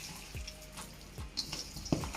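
Hands are washed and rubbed together under running water in a home kitchen during cooking, with soft splashing and a few brief drips, close and fairly quiet.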